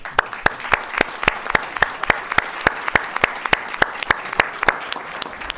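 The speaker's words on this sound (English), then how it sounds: "I want to give her a big round of applause" An audience applauds at a Texas gathering about a stem cell access law, heard as steady, evenly spaced claps ringing out close by over a quiet room, with no one speaking.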